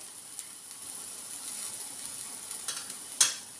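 Onions sauté in a pan for chicken vegetable soup, a soft steady high sizzle with a few stirring scrapes and a sharper clack near the end, no talk.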